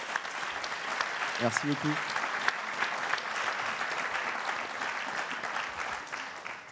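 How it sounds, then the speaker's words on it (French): Audience applause during a Vendée Globe 2024 sailing interview, continuous clapping of moderate loudness with someone briefly speaking over it early on, fading slightly at the end. "Je pense qu'on peut applaudir déjà ton parcours."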